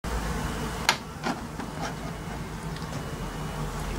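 Honey bees hum continuously in a weak observation beehive, a low steady drone with a couple of brief knocks near the start.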